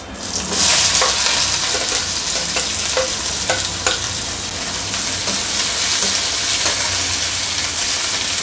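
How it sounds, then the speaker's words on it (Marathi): Chopped onion sizzles loudly in hot oil with garam masala and is stirred, giving a dense steady frying hiss broken by scraping clicks of the spoon against the pan. The sound is close, and no one speaks. "याच्यामध्ये मी आता कांदा टाकते"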